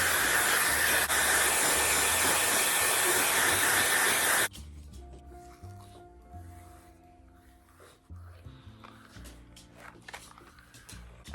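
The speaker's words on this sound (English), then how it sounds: "Just a hairdryer in it, so yeah, it worked." A steady, loud broadband rushing hiss of a Dyson Airwrap hair dryer blows for several seconds, then cuts off abruptly, leaving quieter room noise with faint tones.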